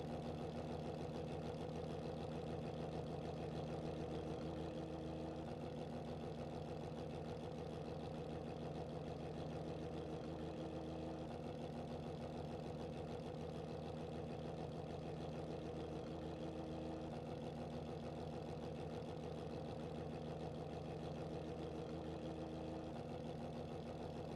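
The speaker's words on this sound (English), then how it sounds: "Waiting for the drivers to rev their engines, and we'll get ready to go racing here at Spa." Porsche Cup race cars idle together on the starting grid at Spa in a racing video game, a steady low mechanical drone that holds unchanged throughout, faint and distant with no voices.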